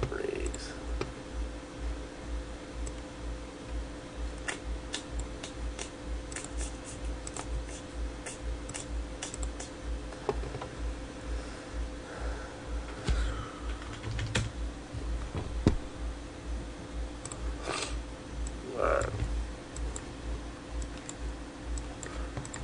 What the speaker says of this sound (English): so now we type in